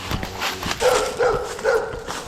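Dogs barking at an off-grid rural property, a few repeated barks at mid distance over outdoor ambience, with no speech.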